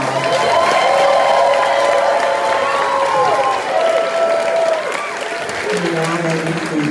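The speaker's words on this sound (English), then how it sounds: "Let's give Ms. PA class a round of applause." A crowd at a fifth grade promotion celebration applauds a class, with sustained clapping mixed with cheers and children's voices, loud and close before tapering off slightly toward the end.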